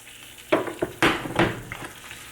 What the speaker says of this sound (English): Just get the egg, flip it.